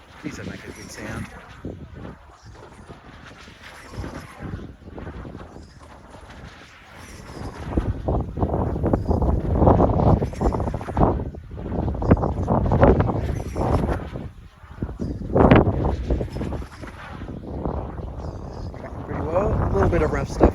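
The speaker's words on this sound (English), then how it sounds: "you can feel the wind on me right now" Gusty wind buffets the microphone on a sunny hillside in Wainui, New Zealand, at a drone-flying event, a low rumbling roar that swells and drops in waves while a voice talks over it.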